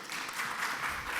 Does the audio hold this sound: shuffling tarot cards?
no